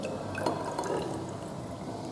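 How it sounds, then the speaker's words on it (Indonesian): Water poured into a glass measuring cylinder, about 50 ml, a short steady liquid stream with a faint glassy ring, fairly quiet and with no talking. "Tuangkan 50 ml air"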